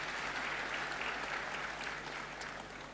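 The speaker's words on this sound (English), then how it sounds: "Another round of applause, please." Audience applause fills a university hall, a dense, even patter of many hands clapping together at moderate volume for a few seconds, fading slightly at the end.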